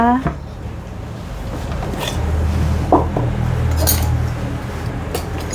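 A pot lid and metal fish-shaped molds clink on a steaming pot while Thai pandan layer dessert is made. Several sharp metallic knocks and clinks are scattered across a low kitchen hum.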